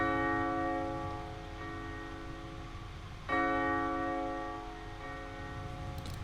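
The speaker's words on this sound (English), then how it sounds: "I just got this church bell that plays." A church bell patch from the Piano Tech 7 plugin in FL Studio rings one repeated note, a sustained bright toll with a fresh strike near the middle, layered over a low rumbling bed.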